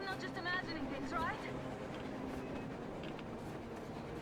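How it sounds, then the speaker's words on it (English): A train rumbles past on the surface in the Metro Exodus video game, a steady rolling rail noise with clattering wagons, while characters talk over it. "It's a train. And it's a train on the surface."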